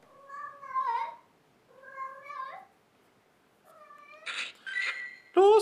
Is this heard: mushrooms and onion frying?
no